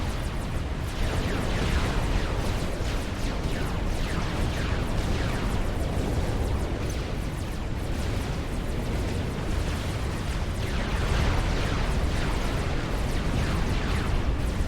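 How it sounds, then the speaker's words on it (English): Massed Exodus class destroyers firing in Supreme Commander Forged Alliance, a relentless barrage of heavy booming cannon shots and explosions overlapping into a loud, continuous rumble. "so many Exodus class destroyers. I love it. Just watch this firing."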